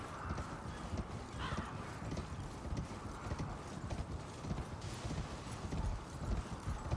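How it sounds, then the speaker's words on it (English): A horse's hooves running in place in a glitched loop in the video game Elden Ring, making a steady, dense clip-clop that continues throughout amid game ambience, with no talking. "Someone's horse is just running in place right here. Like it's glitched."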